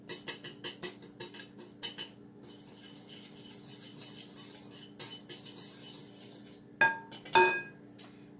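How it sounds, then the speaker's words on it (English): Metal whisk clinking quickly against the sides of a bowl while mixing macaroni salad dressing ingredients, a run of close, light taps and scrapes followed by a few louder clinks near the end. "I'm just going to whisk these all together quickly, just to mix them up a little bit"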